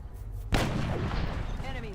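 A sniper fires at a cyberdisc in XCOM: Long War with one sharp, heavy shot that booms and rumbles away, followed by a faint rising whine.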